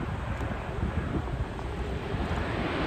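An American Airlines Boeing 737 performs a touch-and-go at Miami, a steady broad jet-engine roar at moderate distance, muffled by wind rumble on the microphone, with no talk.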